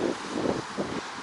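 Wind gusting on a Florida beach, a loud continuous rushing roar buffeting the microphone in uneven surges, no voices.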